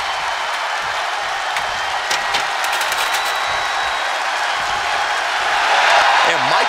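A steady, loud arena crowd roars and cheers in the WWE 2K24 wrestling game during an Extreme Rules match, with a commentator talking over the noise throughout.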